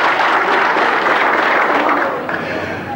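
Factory workers break into dense, steady applause mixed with crowd chatter, close and loud throughout, easing slightly toward the end.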